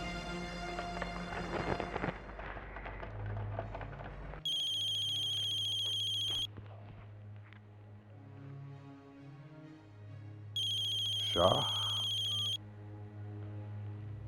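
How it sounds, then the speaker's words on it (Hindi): An outgoing telephone call produces two electronic ringback tones separated by a long pause, each about two seconds long, clear over quiet background noise. "गुप्त जी को फोन लगाओ।"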